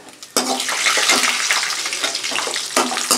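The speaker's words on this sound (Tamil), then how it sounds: "கிரேப்ஸ் சீக்கிரத்தில் அது உப்பி வந்துடும், ஃப்ரை ஆகிடும்" Raisins drop into hot ghee for rava laddu, setting off a sudden loud, close hiss of frying that holds steady and crackles for a few seconds, with no talking.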